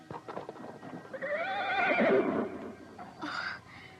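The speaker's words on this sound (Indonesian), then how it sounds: "dia mendengar suara derap kaki kuda berkeliling sekitar tempat itu" In an audio drama sound effect, a horse whinnies in a long, wavering neigh over the patter of hooves, and a shorter snort or whinny follows near the end.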